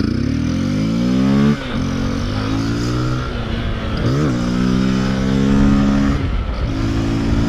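A motorcycle engine revving hard and close, climbing through the gears with rising whining pitch, brief drops at each shift, then pulling steadily again, loud and continuous with no voices.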